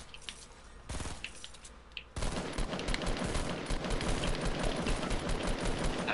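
Rapid automatic gunfire in the Fortnite video game, a brief burst near one second, then a dense, loud and continuous barrage of shots from just past two seconds to the end, with no talking.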